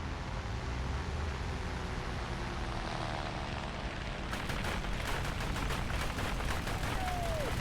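Anti-aircraft gunfire in the video game War Thunder: a steady aircraft engine drone fills the scene, and from midway a rapid, evenly spaced series of gunshots rattles over it.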